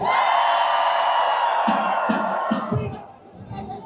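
A crowd at a sail away party on the deck of the Carnival Jubilee cruise ship, leaving Galveston, screams and cheers in a loud sustained roar, with scattered whoops and shouts rising above it.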